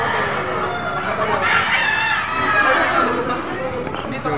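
Chickens and roosters crowd a livestock auction market in Padre Garcia, Batangas, crowing and clucking steadily amid busy crowd chatter and voices throughout.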